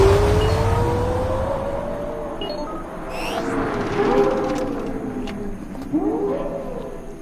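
A Lexus LFA and an Audi RS3 in a drag race, engines roaring and revving with rising pitch sweeps as the cars accelerate past, loud and continuous with gear-change dips.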